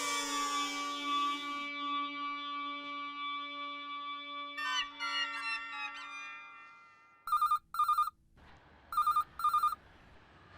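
An electronic telephone ringtone plays alone: a sweeping melodic chime, then clear bursts of repeated beeping rings.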